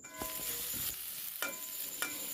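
Green chillies crackle and sizzle in a hot pan while a utensil scrapes and stirs them in a few distinct strokes, close by.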